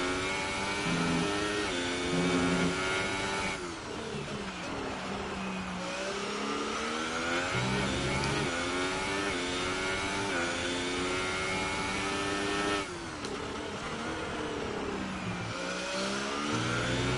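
Racing cars in a racing video game roar steadily through corners, engine pitch rising and falling as they rev and shift, loud and continuous with no talk.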